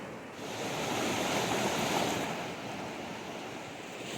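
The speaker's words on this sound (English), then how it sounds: "The deepest part of the wash is submersed, and it's way up on the banks and just flowing like a raging river." A flash flood after a monsoon storm rushes through a flooded desert wash, giving a continuous, full-bodied roar of churning water that swells slightly and then holds steady.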